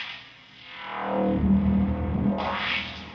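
A bass tone through a high-pass filter sweeps and swells, its thin, hollow edge shifting in brightness over a few seconds, with no voices.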